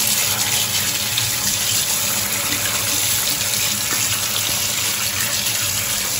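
Steady running tap water pours into a sink while meat is rinsed, a constant close splashing gush with no talking.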